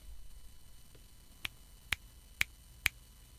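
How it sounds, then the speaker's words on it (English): Four crisp finger snaps, evenly spaced about half a second apart, each sharp and isolated against a quiet background, captured through preset A of a MAONO streaming audio mixer. "that was just me snapping my fingers"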